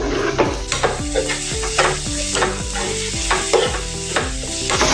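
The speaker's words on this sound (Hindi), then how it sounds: "अब इसको हम ऐसे ही अभी पकाएंगे चम्मच से हिलाते हुए।" Green onion sabzi with gram flour and asafoetida frying loudly in a pan, with a spoon stirring and scraping in a steady rhythm over continuous close sizzling.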